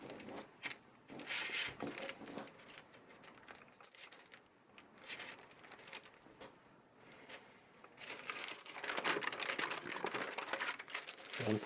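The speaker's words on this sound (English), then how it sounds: "And now fold this edge to that line." Paper crinkles and creases in steady bursts while an origami tree swallow is folded by hand, close up, with soft rustles and a few sharper crackles and no talking.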